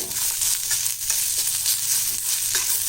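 Mint and tamarind sautéing in a pan for chutney, a steady dense sizzle with faint stirring scrapes throughout, close and continuous, no voices.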